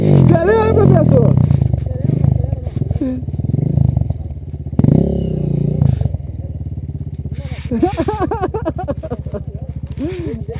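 A close, loud motorcycle engine revs repeatedly, rising and falling in pitch, with people talking and shouting over it.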